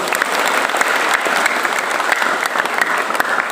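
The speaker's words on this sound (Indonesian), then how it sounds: "Tepuk tangan buat Pak Wahyu." A school audience at a student-profile session claps for the guest presenter Pak Wahyu, a loud, thick burst of applause from many people that holds evenly throughout.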